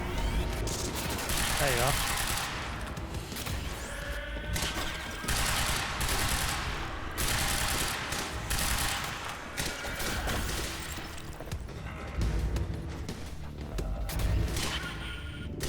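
Sustained gunfire in the game Quantum Break, with a rifle among the weapons, forms dense, loud volleys and bursts with low thuds running through the whole stretch, while a voice speaks briefly over the shooting.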